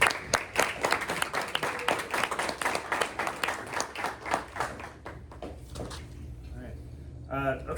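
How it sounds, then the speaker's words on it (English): An audience at a press luncheon claps in steady applause that fades after about five seconds, then a voice begins speaking amid light room noise. "one more round of applause for Luke."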